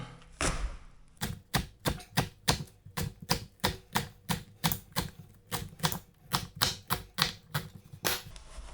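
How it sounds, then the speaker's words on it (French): A knife finely chops leek on a cutting board in quick, even strokes, about twenty-five close, crisp taps at a steady rhythm, with no talking. "Ensuite, je le coupe en petits morceaux, vraiment super fin."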